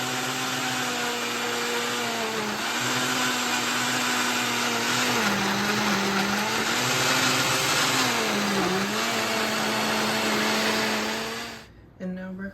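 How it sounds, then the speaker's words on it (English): A kitchen blender whirs loudly and steadily while blending a smoothie, its motor pitch dipping and recovering as the contents churn, running close for about twelve seconds before stopping abruptly. "I'm gonna blend up this smoothie real quick"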